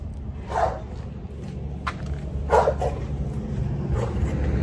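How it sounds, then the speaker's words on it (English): A playing dog lets out a few scattered barks and yips over a low background rumble, with short gaps between the outbursts. "when you hear that dog sound like he's going crazy in the background"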